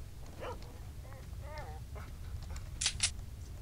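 Dog in the video game S.T.A.L.K.E.R. Shadow of Chernobyl giving short yelps and whimpering whines over a low rumbling game ambience, fairly quiet, followed by two sharp clicks near the end.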